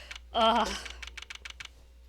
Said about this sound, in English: I'm Pavloved by the Ace Attorney typing noise